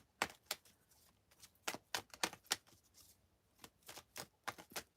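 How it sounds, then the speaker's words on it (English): Crisp riffling bursts of a deck of cards being shuffled, repeated several times in quick flurries with short pauses between, close and quiet. "Just want to give the cards a nice shuffle here."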